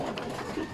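Racing pigeons cooing in a loft during a derby season, a soft continuous murmur of coos close by with faint background noise and no talk over it.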